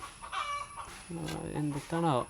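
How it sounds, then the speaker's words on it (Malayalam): A rooster crows nearby in a few short, rising harmonic calls over a low background hum, fairly clear and close. "കോഴി അവിടെ കൂക്കണു"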